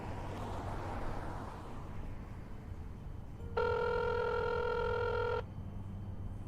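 A phone ringtone in the Crowns and Pawns: Kingdom of Deceit video game plays a steady electronic ring for about two seconds, clear over a low background hum.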